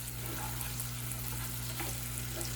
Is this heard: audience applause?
no